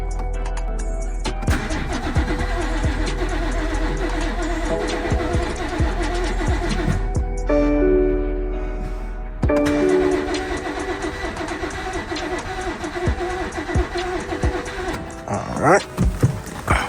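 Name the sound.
BMW 440i car engine starting after injector and fuel pump replacement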